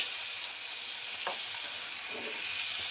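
Chopped onions and green chillies fry in oil for beef butter steak bites, a steady bright sizzle with a couple of faint stirring scrapes.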